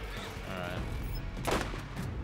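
Single sharp sniper rifle shot from the video game Borderlands, a loud burst standing out over a busy mix of game effects and background noise.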